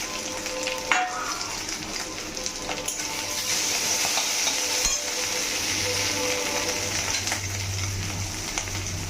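Potatoes with cumin seeds fry in a pan, giving a steady, close sizzle and crackle, with a spoon scraping and clinking against the pan now and then as they are stirred.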